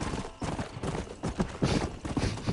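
Horse hooves clopping in the Red Dead Redemption video game, a steady run of near, fairly loud footfalls with a rough uneven rhythm and no talk.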